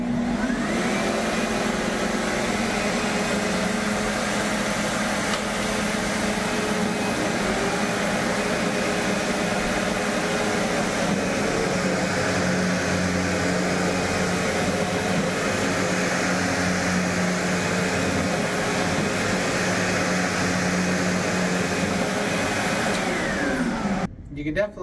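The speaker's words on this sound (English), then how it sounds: "Here we have the X4, and then we have the X4 Boost with the brush roll activator switch" An X4 Boost vacuum cleaner with its brush roll switched on runs steadily across carpet, a loud continuous motor whine and whooshing suction holding close and unbroken for the whole stretch before cutting off at the very end.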